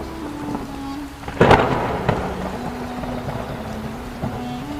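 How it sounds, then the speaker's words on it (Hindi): Thunder crashes in an animated village storm scene with rain, as clouds gather and strong wind rises; a sharp loud crack followed by a rolling rumble over a steady windy, rainy background, with a faint tonal hum running throughout. "बिजली गड़गड़ाने लगी और हवा जोरों से चलने लगी।"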